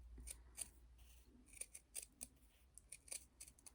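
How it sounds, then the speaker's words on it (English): Scissors trimming the seam allowance of a sewn fabric collar, a quiet series of short, sharp snips at irregular intervals, close and alone with no talk. "So now you need to trim your seam allowance."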